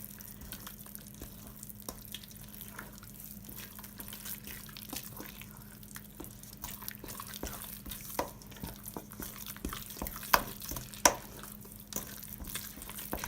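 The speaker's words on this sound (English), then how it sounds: "We should mix everything together." Cake dough ingredients being mixed together by hand, heard as soft, close, irregular wet stirring and tapping sounds with a few sharper knocks, fairly quiet and with no talking.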